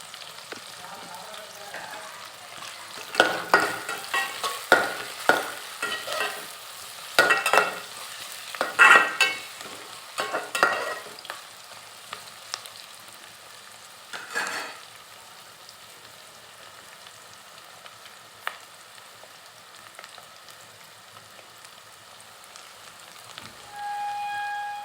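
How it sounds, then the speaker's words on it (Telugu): Bommidi fish frying in oil with onions, a bright crackling sizzle with bursts of louder spattering and stirring in the first half, easing to a quieter steady hiss later, no voices. "చూడండి బొమ్మిడీలు అయితే చాలా బాగా వేగినాయి ఆయిల్లో"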